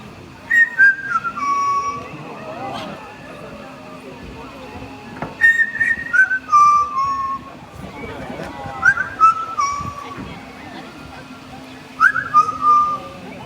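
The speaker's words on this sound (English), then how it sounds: "now he will whistle. He makes the tunes up as he goes along" A macaw in a parrot show whistles a made-up tune of clear descending phrases in short bursts, repeated several times with pauses, over faint crowd and outdoor background noise.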